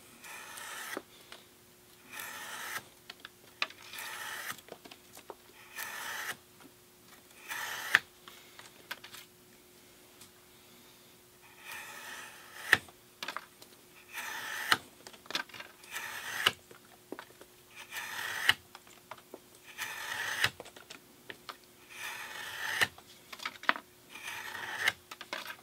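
Book fore-edge being trimmed with a hand book plough, a few pages per pass: repeated short scraping strokes in a regular rhythm, close and fairly quiet, with brief pauses between passes and no speech.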